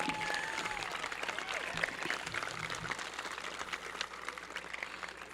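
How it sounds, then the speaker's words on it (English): Audience applause fills a high school graduation ceremony, a steady dense wash of many hands clapping at moderate distance, sustained without a break, with faint crowd murmur and a few whistles riding over it. "I want to have a round of applause for all the parents, guardians, and staff"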